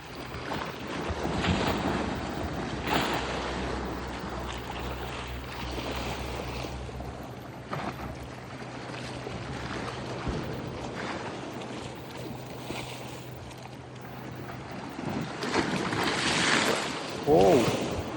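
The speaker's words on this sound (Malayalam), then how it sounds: "ഇപ്പോൾ കടലിൽ നല്ല കയറി കിടക്കുവാണ്." Rough sea waves wash against the rocky shore at Murrays Bay in Auckland, a broad surging roar with gusts of wind buffeting the microphone and swells rising toward the end.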